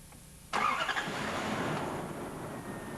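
A car engine cranks and catches abruptly after a stretch of quiet, then settles into a steady idle, starting normally once a faulty fuel pump relay has been replaced.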